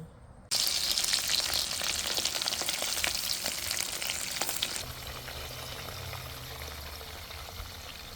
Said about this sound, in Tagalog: Siyempre, pag fish sa labas ipiprito para hindi maamoy.